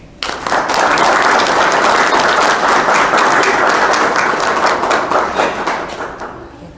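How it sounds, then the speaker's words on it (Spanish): Audience applause for an author at a formal induction event of CEU Lagos de Moreno, Jalisco: dense, steady clapping from a full room that holds for about six seconds and then tapers off. "a quien le brindamos desde luego un cordial y merecido aplauso"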